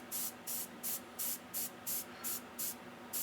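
Light paint spraying: about ten short, evenly spaced bursts of airy hiss from an airbrush or spray can, each roughly a fifth of a second, close and steady in rhythm.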